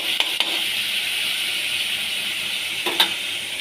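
Chicken frying in a pan over a lowered gas flame gives a steady, moderately loud sizzle and hiss, broken by a few brief clinks or stirring sounds, with no talking.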